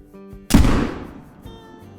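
A muzzleloader rifle fires once at an albino red deer stag: one sharp, loud, close blast with a long rolling echo that fades over about a second, heard alone without talk.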